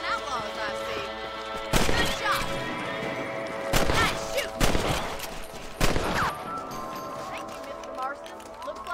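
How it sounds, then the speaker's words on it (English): Rifle shots ring out in Red Dead Redemption as rabbits are hunted on a frontier farm, four sharp loud cracks spaced a second or two apart over background game music and a voice. "Get your rifle out. It's about time these little thieves met their mate. That's it. Kill those little varmints."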